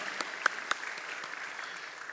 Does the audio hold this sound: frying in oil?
no